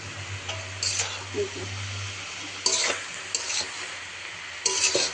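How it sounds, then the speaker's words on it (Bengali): Mixed leafy greens such as data, spinach and radish greens with potato and dried fish being dry-fried in a pan, a soft sizzle under repeated scraping strokes of a spatula against the metal. "শাকটা দিই ভালো করে শুকনো করে ভাজবো"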